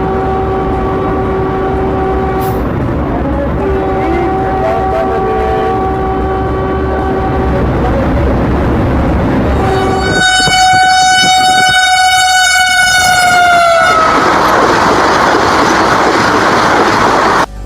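A Vande Bharat Express train runs past loudly with a rhythmic clatter of wheels. Its horn sounds in long blasts and then in a sustained, loud blast toward the end.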